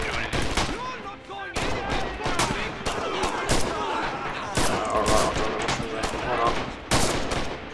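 Rapid gunfire and shell blasts from the World War II shooter Red Orchestra 2, dense and continuous with repeated sharp bursts, machine-gun rattles and heavier booms throughout.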